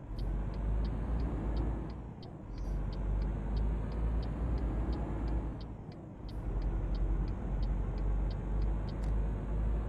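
Car passing in the Euro Truck Simulator 2 game, a steady low engine and road rumble with two swelling passes, under a repeating high ticking like a turn signal.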